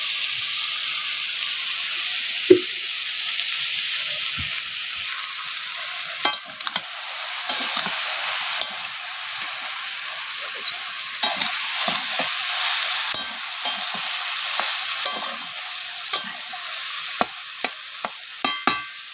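A winter vegetable curry cooks in a pan under a continuous soft hiss of steam and sizzle, broken by scattered clicks and scrapes of a spoon stirring against the metal.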